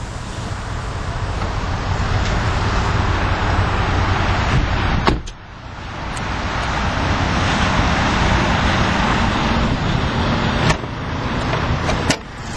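Steady, loud running drone from a 2012 Fiat 500C Lounge's 1.4-liter MultiAir inline 4-cylinder engine, broadband and constant with a brief dip midway and faint clicks.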